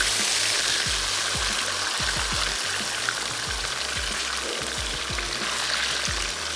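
Large chicken strips cook in a hot pan with a loud, steady sizzle and bubbling, punctuated by a run of low, soft thumps and pops as the pieces spit, close by and free of speech.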